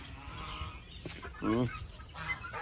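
Geese honk in a farmyard at morning, with chickens and Bengala fowl nearby, several loud calls over a short stretch and one strong honk in the middle, nearby and clear.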